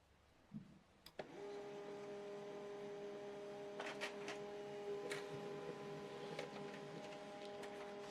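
An HP LaserJet M140we laser printer runs a print job, a steady mechanical whir with tonal hum starting after a couple of clicks, carrying on with occasional brief rattles and clicks throughout.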